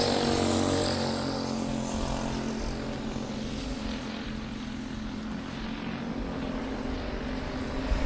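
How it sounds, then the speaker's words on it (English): Race cars lap Golden Spike Speedway in Blue Earth, Minnesota, their engines blending into a continuous, fairly distant roar with no speech heard. "Driving car number 26 is Kimber Zimmer, and joined on the racetrack by the driver from Walters, Minnesota, the 5B of Bristol Greenfield."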